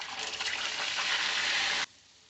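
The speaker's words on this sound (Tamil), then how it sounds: "நல்லா வெங்காயம் பச்சை வாடை போகிற வரைக்கும் நல்லா வதக்கியாச்சு." A steady, loud hiss of onions frying in a hot pan fills the space, then cuts off abruptly near the end.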